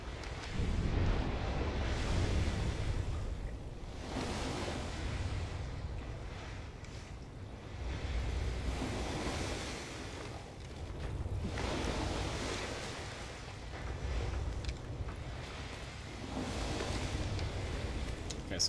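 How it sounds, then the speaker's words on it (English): Ocean surf from the video game Assassin's Creed III swells and recedes in slow, repeated washes near underground tunnels, a low rumbling roar that rises and falls every few seconds with no talk over it. "Must be near the ocean"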